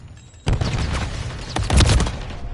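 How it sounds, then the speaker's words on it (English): Grenade blasts in the video game Call of Duty MW3, two heavy booming bursts about a second apart, the second louder, over low background game noise. "We'll toss the nade there."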